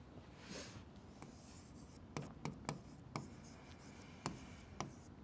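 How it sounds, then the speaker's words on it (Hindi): Pen scratching on paper while a geometry proof on triangles is worked out, quiet, close strokes with several sharp taps and ticks spaced irregularly across a faint background. "तो सबसे पहले लिखेंगे गिवन"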